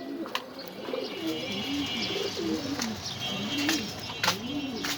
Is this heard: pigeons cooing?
yes